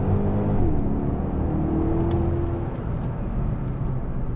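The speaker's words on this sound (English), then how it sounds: "So let's experience a little first gear pull." A 2010 Porsche Panamera Turbo in manual mode pulls hard in first gear from about 3,000 RPM. Its loud, continuous engine roar climbs steadily in pitch, close up and with no talking.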